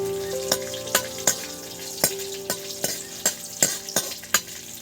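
A spoon stirs an amla pickle spice mix in a pan, scraping and clinking against the metal in a steady rhythm over a low sizzle, with no voices.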